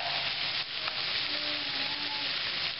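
Flour sizzling in pork chop grease for a southern onion gravy, a steady, moderate frying hiss with light stirring scrapes, heard alone without talk.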